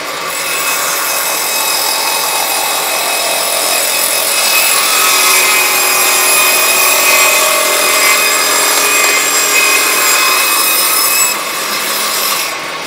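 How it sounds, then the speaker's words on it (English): A table saw rips a 2x4 into narrow strips in one long continuous loud cut, the blade whining steadily through the wood before easing off at the end. "I'll take these 2 remaining pieces and I'll rip 3 pieces 5/8 wide"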